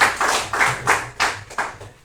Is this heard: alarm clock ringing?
no